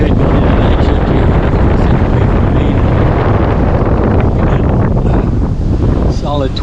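Strong wind of 22 to 23 knots buffets a double-reefed sailboat at sea at dusk, a loud, constant roar of microphone wind with rushing water beneath.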